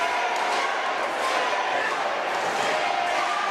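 A wrestling crowd in the Malabar Gymnasium roars and cheers steadily at an indie tag team title show, a dense, continuous wash of crowd noise that fills the whole stretch without pause.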